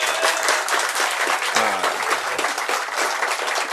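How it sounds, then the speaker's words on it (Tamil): A large audience claps loudly and continuously, with a dense, close wash of applause and a brief whistle partway through. "இப்படி விசிலடிச்சு கையெல்லாம் தட்டி ஆரவாரம் பண்றாங்கன்னு தெரியல"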